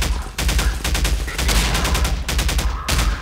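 Rapid automatic gunfire from a weapon in the shooter Half-Life 2 sounds as a dense, loud stream of shots, nearly continuous with brief pauses, close and aggressive.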